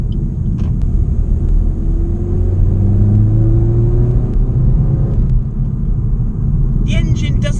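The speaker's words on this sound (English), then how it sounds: "It's got quite a muted, sort of uncharismatic turbo engine." Cabin view of a 2018 Suzuki Swift Sport with a 1.4-litre turbocharged engine, driving in traffic. The engine gives a loud, steady, muted drone with a gentle rise in pitch, and faint high chirps come near the end.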